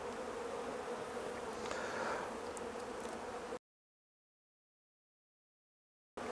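Honey bees in a weakened hive, a colony affected by chronic bee paralysis virus, give a faint, close, continuous buzzing hum that cuts off abruptly into silence partway through.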